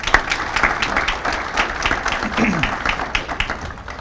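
Audience applause at a Rotary Club career technical awards and scholarship ceremony: a loud, dense run of individual claps from a crowd, sustained throughout with some sharper near claps standing out.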